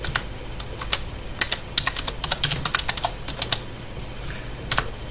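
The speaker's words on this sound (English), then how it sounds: "I'm actually going to type in stock price as a title." Keys clatter on a computer keyboard in quick, uneven bursts of close, crisp clicks, with no voice over them.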